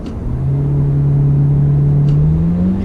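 A Toyota Auris engine with a CVT gearbox revs as it is manually shifted down a step, a loud, steady droning hum rising slightly in pitch, heard from inside the car.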